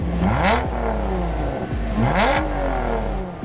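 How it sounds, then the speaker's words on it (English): A supercharged V8 car engine revs hard twice in quick succession, each blip climbing fast and dropping back, loud and close with a rough idle between. "Listen how fast it revs. Wow, V8 supercharged."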